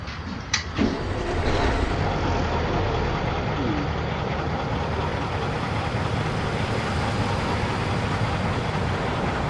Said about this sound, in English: The Mack B61. And this is baby fire up.